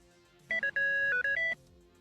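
A telephone rings once with a brief electronic melodic ringtone of a few tones lasting about a second, clear and fairly close over a quiet background, with no talk.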